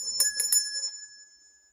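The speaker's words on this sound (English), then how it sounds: "And then you just ring the bell." A small vintage kitschy bell rings three quick times, bright and close, then decays into a clear fading tone with no talk.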